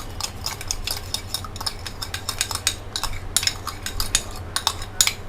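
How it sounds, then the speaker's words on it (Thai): A spoon scrapes and clinks rhythmically against a bowl or pan while ingredients for a fried crispy eggplant stir-fry are mixed together, a steady run of close, light taps with no talk. "ผสมเข้าด้วยกันเลยนะคะ"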